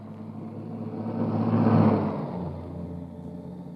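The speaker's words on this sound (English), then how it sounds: "the first post office van was already approaching" A post office van approaches, its engine rumble swelling to a peak as it passes close by, then easing away, alone without voices.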